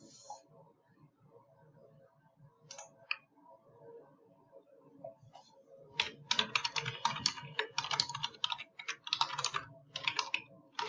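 Quick bursts of typing on a computer keyboard, close and clattery, starting sparsely and then becoming rapid and continuous, with a person speaking quietly underneath at the start.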